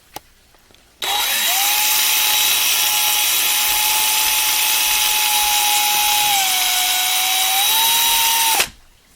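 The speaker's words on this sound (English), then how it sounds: "it's a decent amount of metal on there that you have to drill off" A power drill drilling through metal on a NASCAR diecast model car whines steadily for about eight seconds, loud and close, its pitch dipping briefly near the end before it abruptly stops.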